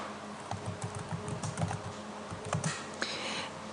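Keys click steadily on a computer keyboard while a pie chart title is edited in Excel, a quick run of soft, close taps over a faint background hum.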